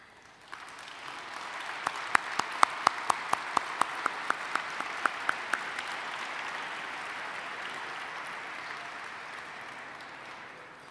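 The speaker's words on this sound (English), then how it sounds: "we could give them another round of applause" Gala audience applauding committee members at the NIAF New York Gala, a steady wash of clapping that swells and holds, with a few sharp individual claps standing out near the start.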